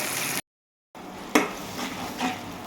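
Onions being lightly fried in a pan, a soft sizzle with a sharp spatula scrape and clatter against the pan, cut by a brief gap of silence.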